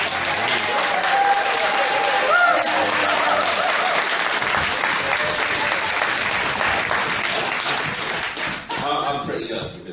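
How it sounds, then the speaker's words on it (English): Sustained audience applause at a disability inclusion event, dense and steady throughout before tapering slightly near the end, with no talk over it. "the one thing we do need to do is applaud like that"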